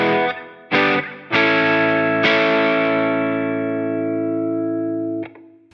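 Electric guitar through a Timmy boost pedal and a 4x12 cab simulation, with a crunchy tone, plays a few picked notes, then a strummed chord that sustains loudly before being cut off.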